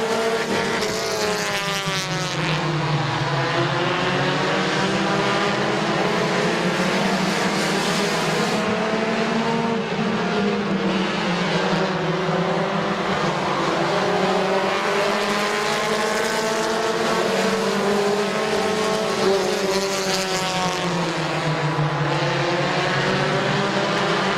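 Compact race cars roar around the oval at Midvale Speedway, engines revving loudly and continuously with rising and falling pitch as several cars pass close by, a sustained layered drone with no talk.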